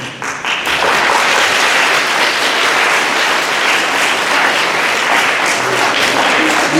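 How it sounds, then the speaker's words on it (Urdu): Sustained audience applause fills a school assembly hall in Peshawar, a dense, steady wash of many hands clapping close and loud from start to finish with no talk over it. "یہ تالیاں زیادہ فارورڈ اسکول والوں نے بجائی ہوں گی"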